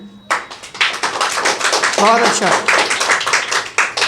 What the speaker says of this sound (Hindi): आप लोग ताली मारिए